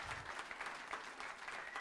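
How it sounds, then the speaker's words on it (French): Brief, faint round of clapping from a French village television audience greeting a guest named Bernard, a short steady patter with no talk over it. "on vous applaudit très fort"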